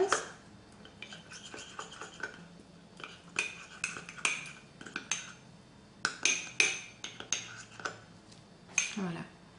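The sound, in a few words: stirring and mixing the gloss base in a container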